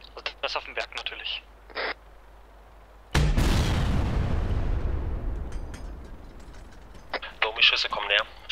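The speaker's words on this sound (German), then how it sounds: "Mörser ist abgeschossen." Mortar round impact during an airsoft milsim game, one sudden loud boom that rolls and rumbles for several seconds, with radio chatter and talking before and after.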